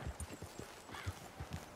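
Horse hooves clip-clop at a walking pace in Red Dead Redemption 2, a steady run of soft, close thuds with no speech over them.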